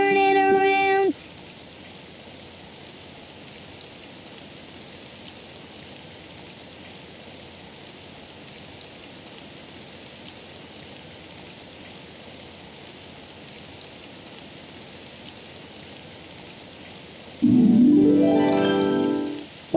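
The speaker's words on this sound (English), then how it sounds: "Oh, it's raining outside." Rain falls in a cartoon as a steady, soft hiss of drops that holds evenly for most of the stretch, with brief musical or voiced bursts at the start and near the end.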